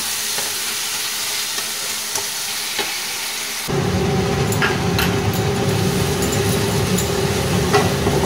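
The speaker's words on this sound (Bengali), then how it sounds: "এবার সব দিয়ে আমি ভালো করে মশলাটাকে কষবো যাতে কাঁচা গন্ধটা" Spice paste fried and stirred in a pan on low gas for spinach curry, a steady sizzle that turns louder and busier partway through, with scraping stirs throughout and no voices.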